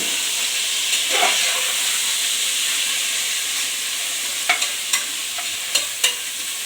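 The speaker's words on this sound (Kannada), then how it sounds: "ಹಾಕ್ಕೊಂಡು ಚೆನ್ನಾಗಿ ಕಲಿಸ್ಕೊಡಿ." Chicken kurma sizzles and hisses in a pan while a spatula stirs it, with a handful of sharp scraping clicks near the end over the steady frying noise.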